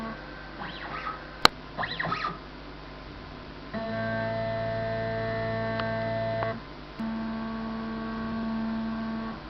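A CNC machine auto-leveling by probing a PCB: steady stepper-motor whine in long sustained tones, with a brief pause and a restart, after some short chirping moves at the start.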